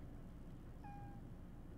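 A cat gives a single short, faint meow midway through, heard over a quiet, low background hum.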